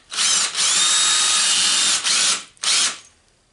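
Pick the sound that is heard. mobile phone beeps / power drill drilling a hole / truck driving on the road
power drill drilling a hole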